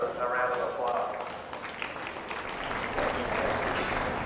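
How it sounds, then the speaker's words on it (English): Audience applause at a fair for the bucket calves class, steady broadband clapping filling the space with a few louder claps, voices murmuring underneath. "Let's go ahead and give these bucket calves a round of applause."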